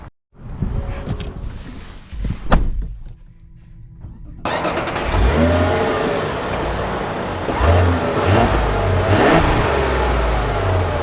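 A 2025 Mazda CX-70 Turbo S starts up and pulls away, its engine revving and rising in pitch as it accelerates, loud and close throughout.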